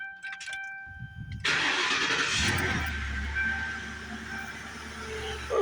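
A car engine cranks briefly and fires up after new camshaft and crankshaft sensors are fitted, then settles into a steady, close idle.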